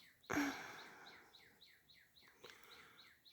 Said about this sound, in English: Oh wow, you guys probably can hear that bird. He's just going to town.